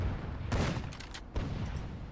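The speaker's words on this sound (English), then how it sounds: "He does machine gun them" Machine gun fire from infantry in a real-time strategy game, a dense burst of rapid shots with booming impacts over about two seconds, steady and fairly loud throughout.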